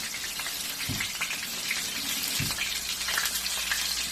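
Water pours steadily into a pot with a continuous splashing rush, close by, punctuated by a couple of soft thuds.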